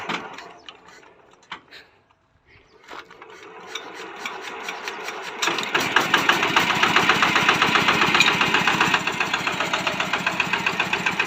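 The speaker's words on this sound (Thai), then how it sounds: "อันนี้เป็น KRT 14แรงนะครับ คูปต้า KRT นะครับรถนั่งขับสายพานนะครับ" A Kubota KRT 14 hp tractor engine starting up: a few sputtering cranks, a short pause, then a close, loud, rhythmic diesel chug that settles into a steady running beat.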